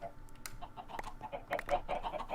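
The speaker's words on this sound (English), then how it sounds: "I have so many more chickens to breed up to" Chickens in Minecraft Sky Factory 3 cluck in soft, scattered bursts, several birds overlapping at close range and fairly quiet.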